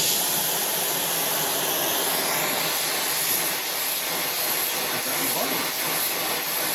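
Torch flame heating a wrench at close range before bending it in a vise, a loud steady roaring hiss that holds evenly throughout.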